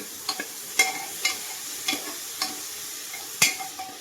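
A spoon stirs chicken stew in a pan, with repeated sharp scrapes and knocks at irregular intervals over a soft steady sizzle.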